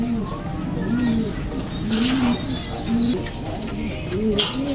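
Racing pigeons coo in a loft, repeated soft low throaty coos at close range, with occasional chirps and background voices.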